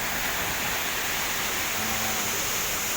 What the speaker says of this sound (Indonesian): merupakan air terjun Blangkulam.